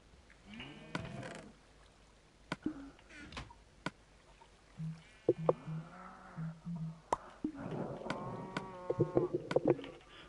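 Cows in the video game Minecraft moo several times, drawn-out low calls spaced across the clip, interspersed with sharp clicks and soft game sounds.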